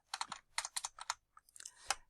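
Calculator keys are pressed in a quick run of about ten soft, close clicks, several coming in fast pairs, with silence between them and no speech.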